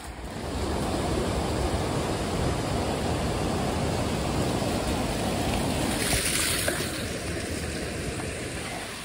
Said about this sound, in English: There's water running everywhere.